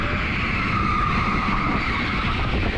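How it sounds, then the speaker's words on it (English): Electric go-karts race around the indoor TeamSport Preston track, a steady, loud wash of whining motors and tire skid noise holding without a break throughout. "check out these new electric karts as well"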